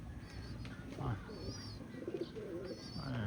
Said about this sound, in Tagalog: may kalapati rin dyan